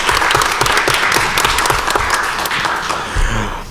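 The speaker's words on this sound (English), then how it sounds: "please give her a round of applause" Audience applause fills a law career panel event, a dense steady wash of many hands clapping throughout before easing slightly near the end.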